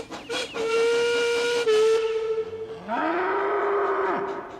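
A loud, long steam whistle blows with a steady tone, briefly dips, then sounds again with a bending pitch before cutting off.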